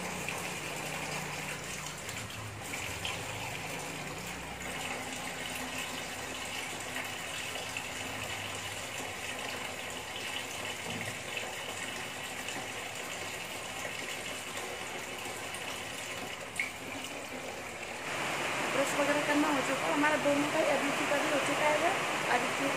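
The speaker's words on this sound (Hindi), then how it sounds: "देख सकते हो आप कितनी तेज वाली बरसात हो रही है, भयंकर वाली आवाज आ रही है।" Heavy monsoon rain pours down in a steady, dense roar that swells louder near the end, with no speech.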